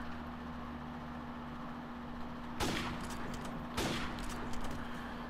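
Two sharp gunshots in Call of Duty Modern Warfare Remastered, about a second apart, rising over a steady low game hum with faint ringing tails and no voices.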